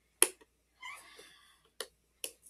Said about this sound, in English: if you hear a meowing